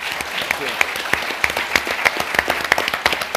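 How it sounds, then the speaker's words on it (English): Applause from a panel discussion audience, a crowd clapping with some loud, distinct hand claps standing out close by in a fairly regular rhythm, and faint voices underneath. "I think we should give all of our panelists a big round of applause."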